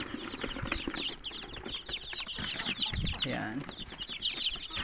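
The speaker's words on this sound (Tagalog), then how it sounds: "So ito na mga sisiw." Rhode Island Red day-old chicks peep and chirp in a dense, continuous high chorus close by, with brief clucking and wing flutters as they are placed into a brooder, and a voice briefly speaking over them.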